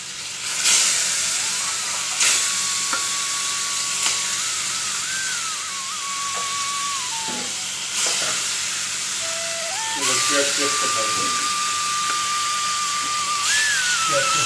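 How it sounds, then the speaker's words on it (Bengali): Fish frying in a pan gives a steady sizzling hiss throughout, with occasional clinks and stirring scrapes and some background tones. "এখন আমি মাছগুলো একটু করে ভেজে নিব, তাড়াতাড়ি করে ভেজে নিব"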